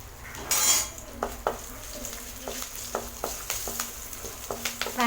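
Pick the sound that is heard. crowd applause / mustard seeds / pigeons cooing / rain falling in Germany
mustard seeds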